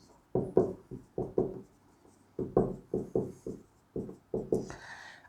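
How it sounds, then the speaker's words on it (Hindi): Chalk or marker strokes on a board as a physics formula is written during a lesson: short, distinct scratching bursts in quick clusters with brief pauses between, close and clear, and no voice over them. "तो मैं लिख देता हूं"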